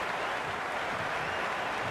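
A crowd in the stands of a T20 cricket match between Sri Lanka and Australia in the video game Cricket 26, a steady, even roar of cheering and applause with no breaks.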